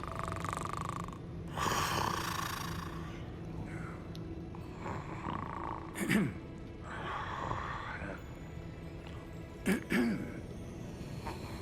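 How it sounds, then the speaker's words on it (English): A character in the video game Hogwarts Legacy snores softly in a few drawn-out, rasping breaths, with sharper snorts near the six- and ten-second marks, set against quiet ambient game sound and no speech. "Snoring."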